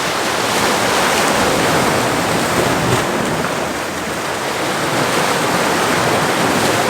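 Ocean waves break on the coast with a loud, continuous wash of surf that swells slightly and eases, close and steady, with no voices.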